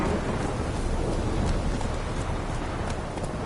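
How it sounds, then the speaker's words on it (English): Steady rain hisses evenly across the whole stretch in The Witcher 3, with faint scattered patters and a low rumble, and no voices. "And the rain smells like fish in this town."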